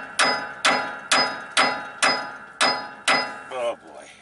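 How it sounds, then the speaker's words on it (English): Hammer smacks a stuck RV shock absorber bolt seven times in a steady rhythm, each sharp metallic strike loud and close, followed by a brief voice. "We'll give it a smack with a hammer."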